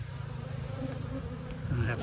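Honey bees swarm and buzz around a hive during a spring inspection of colonies that failed over winter, a steady close drone with individual bees swelling louder as they fly near.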